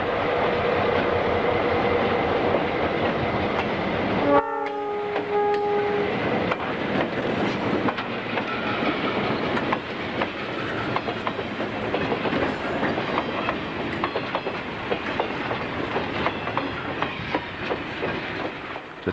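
A Southern Pacific local freight train runs along the coastline rails with a steady, close rumble and rhythmic wheel clatter, and a brief tonal horn-like note sounds early on.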